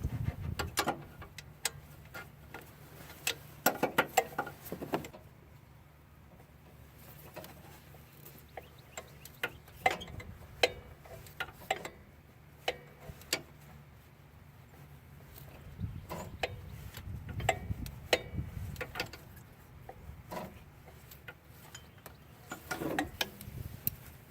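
A ratchet loosening a 14mm bolt on a 2007 Toyota Yaris during a serpentine belt change, quiet irregular clicking and ticking bursts with occasional metallic knocks, fairly close and faint.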